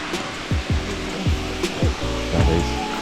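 Waterfall in New Zealand's Coromandel area pouring into a pool, a loud, steady, close roar of rushing water with a few low thumps and no voices.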